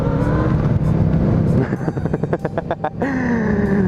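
Large 1290 motorcycle engine nearby, rumbling and revving loudly, with a stuttering burst of pops in the middle and a rising whine, heard alone without talk.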